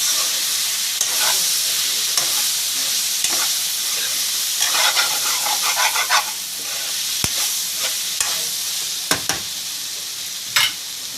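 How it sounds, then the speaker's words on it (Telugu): Ginger paste frying in oil with potatoes and soya chunks gives a constant bright sizzle, punctuated by occasional clinks and scrapes of a stirring spoon against the pan, close up with no voices. "అల్లం పేస్ట్ కూడా నూనెలో బాగా మగ్గిపోవాలి."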